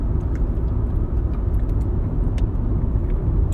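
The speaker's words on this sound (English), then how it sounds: "We got in a big truck. Here he comes." A big truck approaches from behind on the road at night, a steady low rumble of engine and tyres that stays loud and constant throughout, with no talking.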